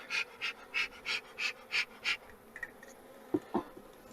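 Honey bees at a hive being fitted with new queens, heard as a series of about seven evenly spaced close buzzing bursts, followed by quieter scattered sounds and two brief sharp knocks.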